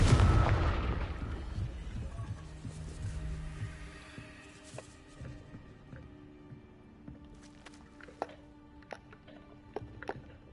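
A Confringo blasting spell goes off in Hogwarts Legacy with a loud, booming burst that decays into a long rumbling tail, followed by a few faint, sharp pops and crackles scattered through the quieter stretch.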